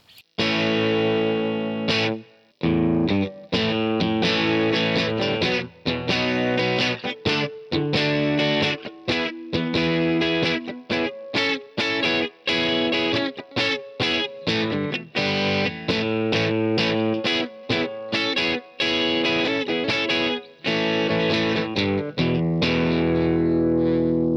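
Ibanez AZ242F electric guitar in the power-tapped pickup position, strummed with a heavily effected, driven tone, steady rhythmic chords ringing out loudly for the whole stretch with short choppy breaks.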